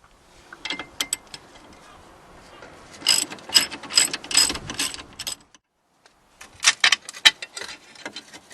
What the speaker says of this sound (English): you need to take the bolt off the tie rod end and then this will just lift off